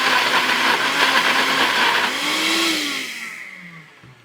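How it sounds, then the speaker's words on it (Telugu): A juice mixer grinds brinjal chutney with a loud, steady motor whir that shifts pitch midway, then winds down and fades out near the end. Nobody speaks. "జ్యూస్ మిక్సర్ తీసుకొచ్చి పచ్చడి చేర్చట."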